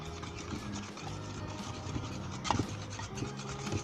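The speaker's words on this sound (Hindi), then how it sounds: "नेक्स्ट हमने क्या करना है, मैदा शामिल कर देना है" Flour (maida) being stirred into a raisin pound cake batter, soft rubbing and scraping strokes of a spoon against the bowl, quiet and close with small clicks.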